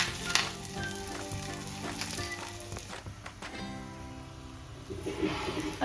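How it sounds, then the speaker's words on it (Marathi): A stuffed radish (mooli) paratha fries in a little oil on a hot pan with a steady close sizzle. Faint scraping and handling noises come through now and then, and no one speaks. "तेल टाकून झाल्यानंतर हा पराठा आपण ह्याच्यावर भाजून घ्यायचा."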